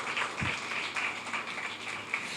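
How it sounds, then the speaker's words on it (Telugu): A church congregation claps together in praise during a sermon, a steady, dense wash of applause sustained throughout with no talk over it. "చప్పట్లు కొట్టి బిగ్గరగా దేవుని నామాన్ని మహింపరుద్దాం."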